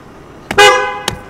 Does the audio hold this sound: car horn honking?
yes